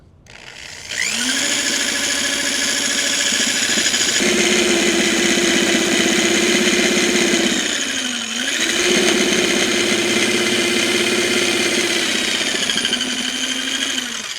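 A small imbalanced electric motor buzzes steadily while set on a brick with a rock on top, a continuous loud mechanical hum that dips briefly partway through and then resumes until a stone slides off.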